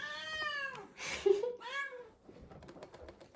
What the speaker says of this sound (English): Oh, the cat's just arrived.